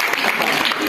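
A classroom audience gives loud, close applause for a student who answered in time during a Hindi school general-knowledge quiz. The clapping is a brief dense burst with no voices over it.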